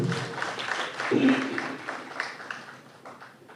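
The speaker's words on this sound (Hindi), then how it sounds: "एक बार महिलाओं के लिए जोरदार ताली बजाइए" An audience at an Indian excellence award ceremony applauds for the women being honoured, a soft, steady wash of clapping that swells briefly in the middle and then tapers off, with a faint voice underneath.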